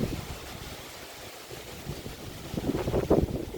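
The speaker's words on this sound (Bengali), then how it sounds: "প্রচণ্ড বাতাস।" Strong wind blows under a cloudy sky after heavy rain, ahead of a cyclone. It comes as low, rumbling gusts buffeting the microphone, and the gusts get louder near the end.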